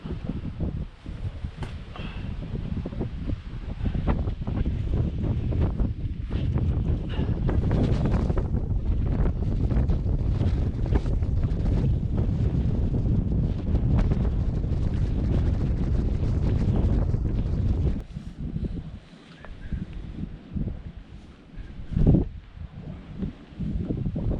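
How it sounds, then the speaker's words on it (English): Strong wind buffets a microphone on an exposed mountain ridge during a traverse of Colorado's Arapaho peaks, a loud continuous roar that eases and gusts unevenly toward the end. "The wind's been brutal, but it's died down a bit."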